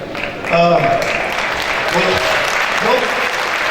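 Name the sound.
audience applause in a gymnasium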